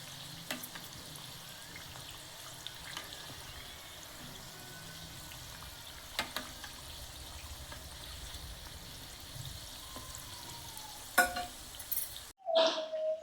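Kajjikayalu, sweet stuffed pastries, fry in hot oil with a soft, steady sizzle and bubbling. Faint stirring clinks are followed by louder scraping near the end, with no talking.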